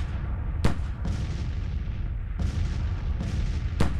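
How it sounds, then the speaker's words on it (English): Cannon fire from 6-pounder artillery batteries in the Civil War strategy game Grand Tactician, with four sharp booms spaced irregularly over a steady low battlefield rumble. "Hopefully this artillery is engaging in some counter battery fire, although they're only 6-pounders."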